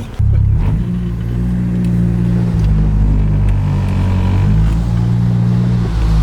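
A Nissan 240SX with a freshly built SR20 engine turns over and catches, then settles into a steady, loud, rumbling idle that continues throughout.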